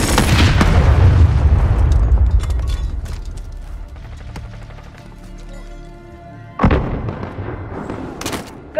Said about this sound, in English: Mark the fire strike.